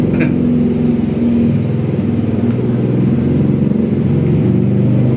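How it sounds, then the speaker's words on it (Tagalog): A loud, close tricycle motor engine idles and revs with a throbbing low drone that stays steady throughout, no voices over it. "Ingay, padanin ko lang yung tricycle guys."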